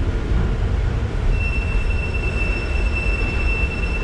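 A three-section K-1M6 tram rolls along its rails with a continuous low rumble that fills the whole stretch, and from partway in a thin, steady high wheel squeal rides over the top.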